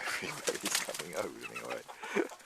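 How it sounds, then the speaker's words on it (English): Hens emerging from their coop into their first snowfall, with rain falling, give close, busy clucks and short calls in an irregular, overlapping patter, mixed with rustling. "see if the chickens come out to see their first snow"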